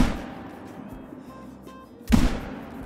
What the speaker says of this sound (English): I think the second shot got it. The first one for sure missed.